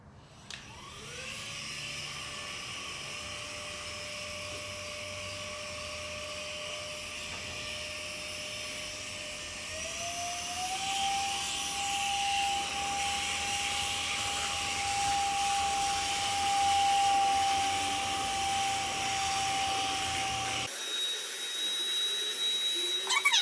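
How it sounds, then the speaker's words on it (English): A handheld compressed air duster runs in vacuum mode with a steady motor whine that shifts pitch upward partway through, then cuts to a thinner high tone near the end. "I'll use the vacuum function because there's still little bits of dust here and there"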